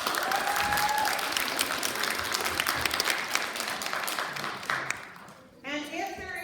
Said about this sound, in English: Applause for the staff.